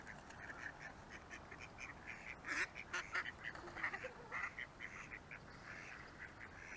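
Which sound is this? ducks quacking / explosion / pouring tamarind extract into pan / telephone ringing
ducks quacking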